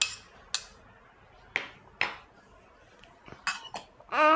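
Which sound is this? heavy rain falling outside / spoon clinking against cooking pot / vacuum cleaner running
spoon clinking against cooking pot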